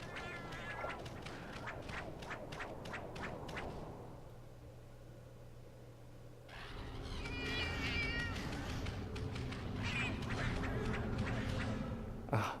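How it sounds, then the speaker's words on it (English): Repeated cat meows from Monster Hunter Generations Ultimate in quick succession, loud and close, with a short quieter gap before the meowing resumes over a steady background hum. "I heard the meowing and thought, oh, there's a Nilix here."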